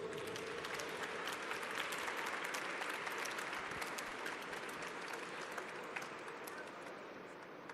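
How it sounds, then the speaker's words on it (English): Sustained applause from an audience at a Bangladesh 50th anniversary celebration, steady dense clapping holding at an even level throughout before easing slightly at the end. "Let's give them another round of applause."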